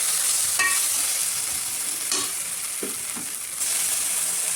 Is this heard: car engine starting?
no